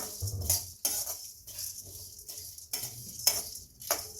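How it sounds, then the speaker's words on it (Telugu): Chana dal is dry-roasted slowly over low heat in a pan, heard as a repeated rhythm of scraping and rattling strokes separated by short quiet gaps. "దీన్ని నిదానంగా ఇట్లా వేయించుకోండి. శనగపప్పు లోపల నుంచి బాగా వేగాలి."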